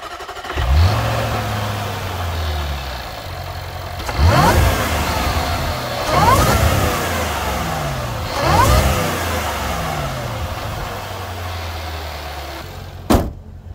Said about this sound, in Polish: Najpierw posłuchajmy gwizdu i jęku kompresora.